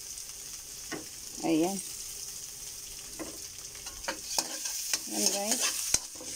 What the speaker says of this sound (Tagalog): Pag ayan na gisa-gisa na siya, ayaan nyo lang mag-gisa-gisa.